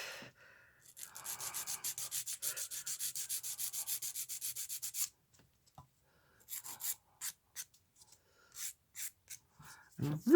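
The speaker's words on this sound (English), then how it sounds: "Now, back to filing the tips." Polygel nail tips being filed, a rapid rhythmic rasping of even strokes up close for several seconds, then a pause and shorter scattered bursts of filing.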